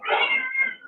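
A short, clear cat meow, a single rising-and-falling cry about a second long, heard alone in the background of an online call.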